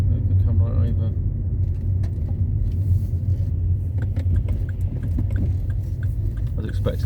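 A big van drives down the road at night with a steady, loud low engine and road rumble throughout, while people talk inside.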